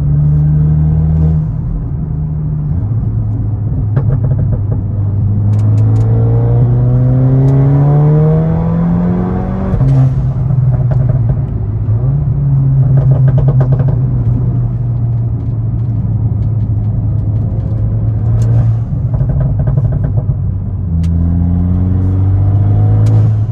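Cupra Ateca with an open air filter in a carbon airbox and a closed dump valve, engine revving loudly and continuously, rising and falling through several pulls with a deep rumbling drone and no voices.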